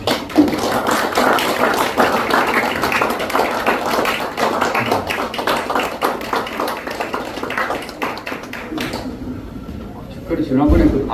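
Forum audience at a Korean national security strategy forum claps steadily for about nine seconds, close and dense, before the clapping thins out and a voice speaks briefly at the end.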